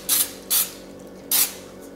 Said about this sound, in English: I'm gonna spray the bottom of my crock pot with some